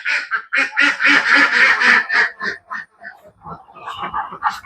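A flock of laying ducks on a poultry farm quacks loudly and close by, many calls overlapping in a dense chorus that thins into scattered single quacks toward the end.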